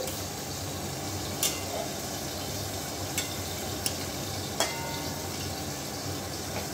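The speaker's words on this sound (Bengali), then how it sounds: "ঘি আর গরম মশলাটা ভালোভাবে মিশিয়ে দিচ্ছি" Ghee and garam masala powder are stirred together in a pan, giving a quiet soft sizzle with a few brief sharp scrapes or taps of the spoon, close and steady, with no talking.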